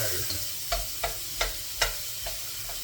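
Onions fry in a pan for an Indian curry, a soft steady sizzle under a series of sharp, evenly spaced spatula taps and scrapes as they are broken up, close by and without talk.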